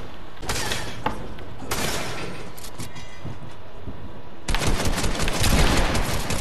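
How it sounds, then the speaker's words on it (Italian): Automatic gunfire in the video game Fortnite, loud rapid bursts in three separate volleys with quieter gaps between, the last burst the heaviest and longest. "Ho sentito degli spari."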